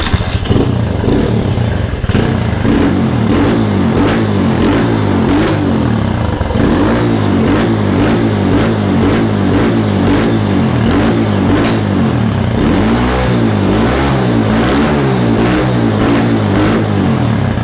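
A Yamaha RXF 150 motorcycle with a drained battery, kick-started and then running: a steady, loud engine idle with rhythmic pulsing and a few revs rising and falling, with no talk.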